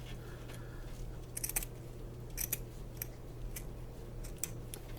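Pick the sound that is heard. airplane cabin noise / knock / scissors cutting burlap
scissors cutting burlap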